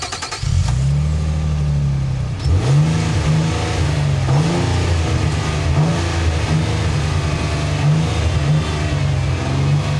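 A Nissan Armada V6 SUV engine revs repeatedly with no load, a deep growly idle swelling and falling in smooth throttle blips, close and loud throughout.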